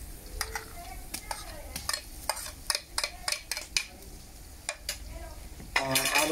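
Garlic, six tablespoons, frying in a pan for a potato and beef curry, with soft sizzling under repeated sharp clinks and scrapes of a spoon stirring against the metal.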